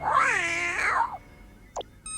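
Dr. Claw's Mad Cat from the classic Inspector Gadget cartoon gives a long, loud, wavering meow, followed by a short squeak and a brief tonal blip.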